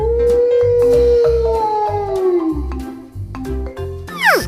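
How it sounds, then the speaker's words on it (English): A wolf howls in a long, loud, sliding wail that falls in pitch, set over a rhythmic backing beat, and ends with a rising final cry. "The sound of W is wolf."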